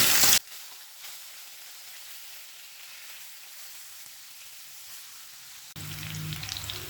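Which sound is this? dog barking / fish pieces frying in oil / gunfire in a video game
fish pieces frying in oil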